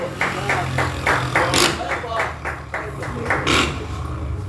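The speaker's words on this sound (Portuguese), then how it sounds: "aplausos bem fortes para o Senhor Jesus" Rhythmic congregational clapping during an evening church service, a dozen or so sharp, evenly spaced claps, fairly close, with voices and a low hum underneath.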